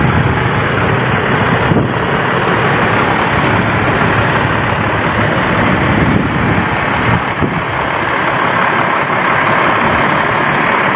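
Raja Wali Skylander Triun DX 256 bus engine idling with a loud, steady, deep rumble and constant hiss, close by and unbroken, no talking.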